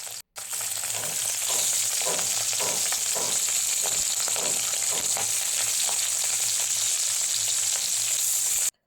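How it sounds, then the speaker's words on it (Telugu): Cleaned dried fish frying in oil left over from frying eggs in a kadai, a loud, steady hiss of sizzling oil with crackling bursts and soft scraping, close and unbroken after a brief start. "ఇప్పుడు అదే ఆయిల్లోని మనం క్లీన్ చేసి పెట్టుకున్న ఎండు చేపలు కూడా ఫ్రై చేసుకోవాలి"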